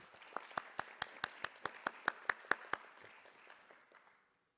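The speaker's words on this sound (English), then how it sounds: "everybody on this great endeavor that we've just shared with you deserves a round of applause" Applause at a university senate meeting: a run of about a dozen sharp, evenly spaced claps rising slightly in loudness, over a soft bed of scattered clapping that fades out near the end.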